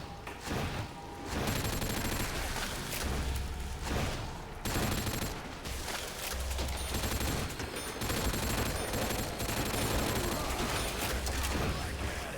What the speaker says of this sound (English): This gun's definitely a lot louder.